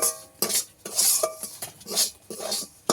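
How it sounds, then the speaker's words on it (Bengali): Semolina is stirred and roasted in ghee in a metal kadai, the spoon making steady repeated scraping strokes against the pan, close and clear with no talking. "সময়টায় একদম বেশি করে এইভাবে নেড়ে চেড়ে যেতে হবে, যাতে করে না ধরে যায় কড়ার গায়ে"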